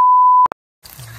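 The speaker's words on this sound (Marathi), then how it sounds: "फक्त बीप कर बीप कर" A censor beep sounds as one steady tone lasting about half a second, followed by a short click, then quiet kitchen noise during a chicken party.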